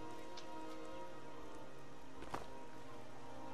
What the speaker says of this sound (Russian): Ой, дождик пошел.